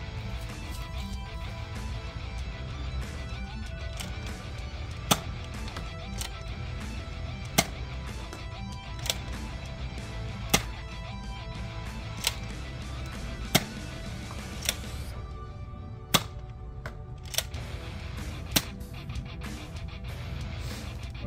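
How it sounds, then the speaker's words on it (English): A Nerf Fortnite 6-SH blaster fires Elite, Ruby and Waffle foam darts one at a time: a dozen or so sharp, close clicks and snaps spaced a second or two apart over a low steady background hum. "I'm going to take six shots with the barrel on, two Elite, two Ruby, two Waffle."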